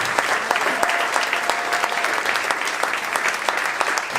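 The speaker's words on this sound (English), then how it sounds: "give yourselves a round of applause and thank you for being here this evening" An evening audience at a performing arts cabaret applauds, dense, steady clapping from a sizable crowd that fills the room without letup.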